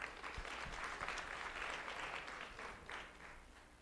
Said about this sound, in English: Let's have a round of applause for Grayson Arnold.